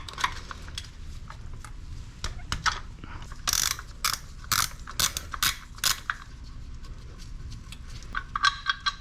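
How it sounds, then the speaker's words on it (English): Breaker bar with a 19 mm socket working loose a faulty coolant temperature sensor on a Subaru WRX, giving a run of sharp clicking ratchet and metal knocks at close range with no talk. "It's a 19 with a breaker bar, and hopefully pry that out."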